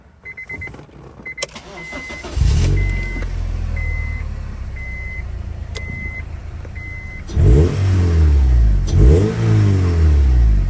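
A K24-swapped Acura RSX engine revs loudly as the car pulls in, throaty surges rising and falling nearby, with repeated short electronic beeps sounding over the idle beforehand.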